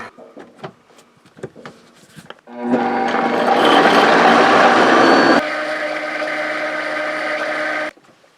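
A blender motor roars loudly and steadily for about five seconds, then drops to a slightly lower, steady whir before cutting off; faint clicks precede it.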